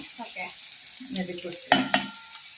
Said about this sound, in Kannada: ಇವಾಗ ಮುಕ್ಕಾಲು ಭಾಗ ಫ್ರೈ ಆಗಿದೆ ಇನ್ ಕಾಲ್ ಭಾಗ ಫ್ರೈ ಆಗಬೇಕು